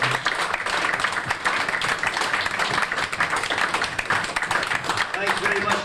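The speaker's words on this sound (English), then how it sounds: "Can I ask you to continue your applause" A club audience gives dense, sustained clapping for a folk singer at a live show in London's Workingmen's Club, close and continuous without pause.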